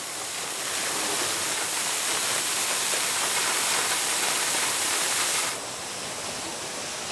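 Steady rushing water from spa jets flows evenly and close, a broad hiss that holds for several seconds before dropping slightly near the end.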